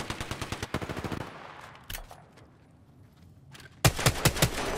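Rapid automatic gunfire in Apex Legends, a burst of evenly spaced shots, a single sharp crack after a pause, then another close burst of several loud shots.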